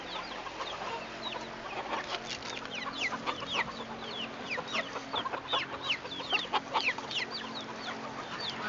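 Backyard chickens cluck and chatter in a dense, steady flock, many overlapping calls near and far with short squawks over a low background hum, no voices.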